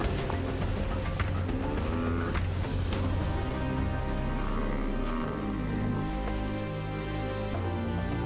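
Buffalo hunted by lionesses in the wild: a continuous, dense commotion of lowing bellows, grunts and scuffling hooves, close and loud throughout, with no one talking.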